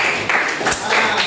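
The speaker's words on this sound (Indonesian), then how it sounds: "tepuk tangan dulu untuk Pak Winnie" A short burst of classroom applause for Winnie during a teaching session: loud, close hand clapping from a group, lasting just over a second with uneven, overlapping claps.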